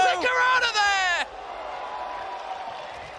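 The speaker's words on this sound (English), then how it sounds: "I love the crowd noises" Live crowd at an Apex Legends ALGS Championship LAN event: a loud, high shout opens, then a steady, diffuse roar of cheering spectators holds at moderate level.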